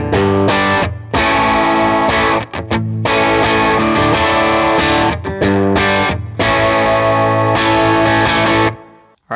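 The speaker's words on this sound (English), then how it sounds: "And now with the studio compressor." Electric guitar through a studio compressor pedal with a compressed, even tone, playing chords and riffs loudly with brief pauses between phrases.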